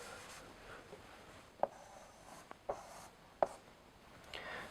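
Pen or marker strokes while a calculus problem is written out, soft scratching with a few sharp taps as the tip meets the surface, close and quiet, no talking.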